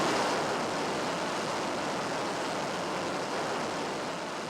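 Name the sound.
F-14 jet taking off down the runway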